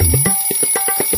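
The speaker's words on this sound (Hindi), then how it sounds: "साला ये अलार्म भी चैन से सोने नहीं देता है।" A loud alarm clock rings in the morning with a rapid, evenly spaced beeping pattern, close and insistent, with no voices over it.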